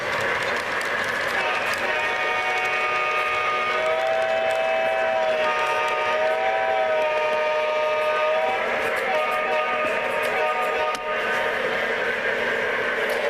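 A model U.P. legacy diesel genset switcher runs on a track layout, a steady rolling rumble with a sustained horn-like tone swelling in the middle, loud and continuous without talk.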